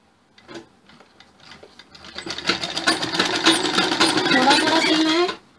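A sewing machine stitches a sherwani collar strip, starting with a few light taps and then running in a steady, loud rattling burst for several seconds before stopping abruptly.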